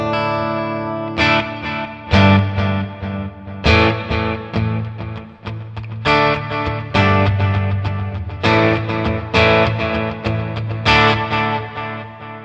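A clean electric guitar feeds a Red Panda Context reverb pedal, playing loud ringing chords and single notes in a steady rhythm, each decaying with a short ambient tail.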